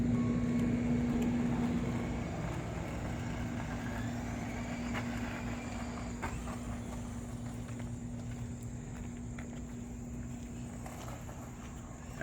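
A vintage RadioShack Z31 300ZX RC car drives across grass, its small electric motor giving a continuous whirring drone with a faint rustle, steady throughout and without talk.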